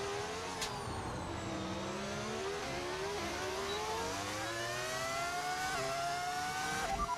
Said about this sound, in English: That is a V10 audio mod that you're hearing.